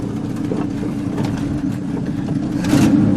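A 1968 Chevy engine that had sat unrun for 15 years idles in a steady, close, low rumble with a droning hum that grows slightly louder near the end. No one speaks.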